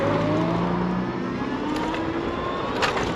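An electric scooter with drum brakes hums with a steady motor whine while riding, continuous and fairly loud, with a rising tonal pitch and wind-like rush throughout.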